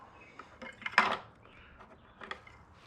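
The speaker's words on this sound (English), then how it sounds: "I'm going to take this dipstick, make sure it's clean, drop her in, pull her out" A metal oil dipstick on a riding mower slid into the tube and pulled back out, giving a few light metallic clinks and scrapes with one sharper clatter near the middle, close up and otherwise quiet.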